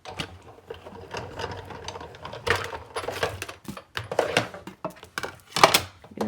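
A die-cutting machine is cranked to feed cardstock in an embossing folder through its rollers, giving a close, irregular run of clicking, ratcheting mechanical noises with a few louder knocks.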